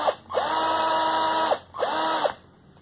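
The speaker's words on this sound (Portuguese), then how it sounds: "Eu vou parafusar já um canto para você ver, ó, com o parafuso brocante." A power drill drives a self-drilling screw into bamboo for a bamboo table cutlery holder: two sustained whirring bursts, close and loud, with a short pause between them and the motor winding down at the end.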